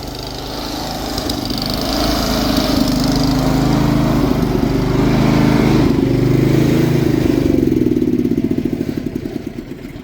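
A small gasoline pony motor runs loud and steady up close, its rough chugging growing uneven as it chokes, before it fades and sputters toward stopping.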